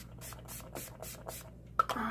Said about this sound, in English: We're gonna spray some Urban Decay Meltdown makeup remover